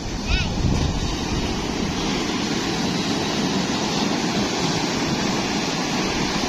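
Constant roaring surf of big ocean waves crashing at Bucana, with heavy wind buffeting the microphone, a dense wash of noise that never lets up.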